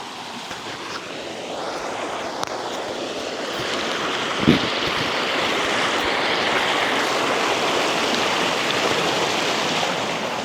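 Steady rushing water noise fills the clip, a broad continuous wash from a waterfall running low on water, with a single brief knock partway through.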